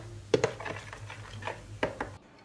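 A spoon stirring a mixture in a bowl after olive oil has been added, giving a few distinct clinks and scrapes against the bowl with quieter swishing between them, close and alone.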